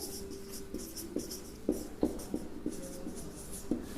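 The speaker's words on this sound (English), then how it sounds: "Here I am going to draw a dorsal view" Chalk or marker tapping and scratching on a board while drawing an earthworm diagram for a biology lesson, a series of quiet, irregular strokes and taps close by.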